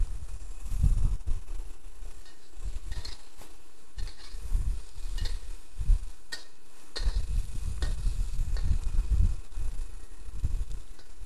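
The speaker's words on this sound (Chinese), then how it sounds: "把鸡丝炒熟之后，放入芦笋跟剑笋， 略为拌炒之后，加入水50cc。" Shredded chicken stir-fried with asparagus and bamboo shoots in a wok, a steady run of scraping and stirring with soft sizzling underneath, close and fairly loud, with no voices.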